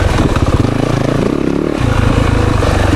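A 2024 Yamaha YZ 450FX dirt bike rides through the woods, its engine loud and close with a throbbing, revving note that rises and falls as the throttle is worked.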